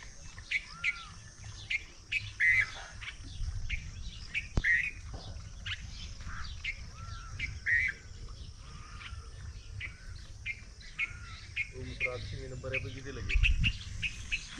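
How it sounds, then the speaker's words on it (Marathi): Birds chirp and tweet around a house in the morning, with repeated bright calls scattered across about fifteen seconds over a low outdoor hum and a brief murmur of distant voices near the end. "त्या पक्षाचा बघा किती सकाळ सकाळ सुंदर चिवचिवाट चालू आहे."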